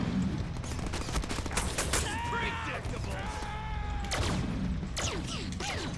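Machine-gun fire and chaotic gunshots from the Deadpool video game crackle in rapid bursts, mixed with game sound effects. A voice speaks excitedly over the action.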